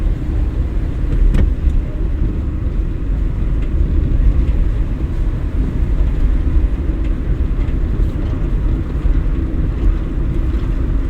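A car driving in third gear during a driving lesson gives a steady, loud engine and road rumble that runs continuously without a break, with some wind noise and no talk.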